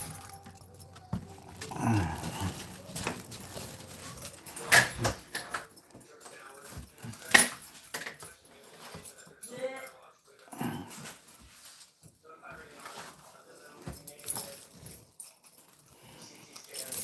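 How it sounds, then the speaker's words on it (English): A dog roams loose off its leash, giving faint whimpers and scuffling movements, with a jangle of keys and a voice speaking quietly at times. "She's a good dog."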